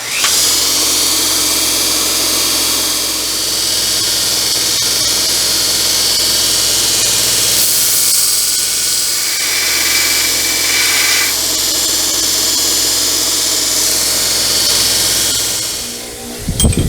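A power grinder wears down the blades of a bench-mount bolt cutter, making a loud continuous high whine and hiss of metal grinding that holds steady for about sixteen seconds before cutting off.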